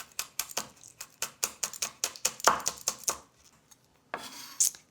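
A knife rapidly and finely chops fresh chili peppers on a cutting board for fish pakora. The steady run of crisp, close taps stops briefly before a few more cuts, with no voices.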